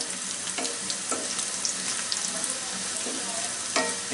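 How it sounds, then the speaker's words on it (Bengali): Half a cup of onions sizzles in half a cup of hot oil for a mutton chaap dish, a steady close crackling fry with occasional stirring scrapes and spatters. "1/2 কাপ পেঁয়াজ দিয়ে ভেজে নিচ্ছি"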